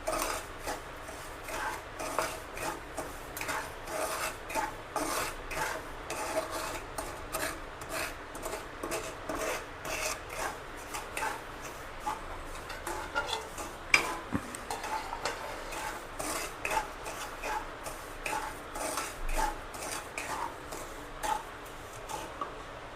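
Semolina roasting in ghee for halwa, stirred continuously: a quiet, even, rhythmic scraping and rasping of the spoon against the pan that carries on throughout without a break.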